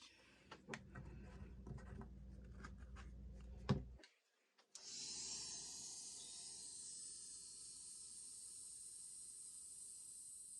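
An embossing heat tool switches on after some handling clatter and short rustles, then blows a steady, airy hiss at fairly low level while melting embossing glaze, with no talking.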